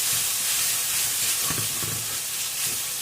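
Meat being stirred in a hot pan, a steady broad sizzle and hiss with a few soft scraping stirs in the middle, close and continuous.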